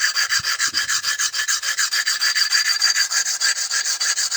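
A pruning shears blade is sharpened against a grinder, a loud, bright, close rasping with a steady back-and-forth rhythm of regular strokes, alone without talk.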